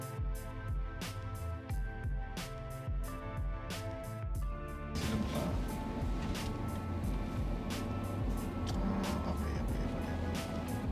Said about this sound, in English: So bring the car into the boat now.